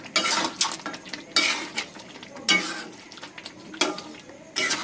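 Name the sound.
stirring Mughlai chicken curry in a pan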